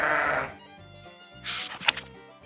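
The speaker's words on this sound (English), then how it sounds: "Sheep say, "Baa."" Farm sheep bleating, a single wavering baa near the start followed by softer faint bleats, close and clear against quiet background with light music tones.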